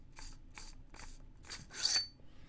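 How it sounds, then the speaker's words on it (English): The threaded handle of an Evo-Flex lightsaber is unscrewed by hand. Five short, quiet rasping turns come in an even rhythm, close up, with no speech. "We will just unscrew the handle one more time."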